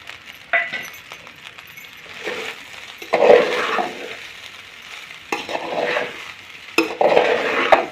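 Chicken biryani with fresh coriander being stirred in a pot: several separate bursts of scraping and clinking with a faint sizzle underneath, spread unevenly across the stretch.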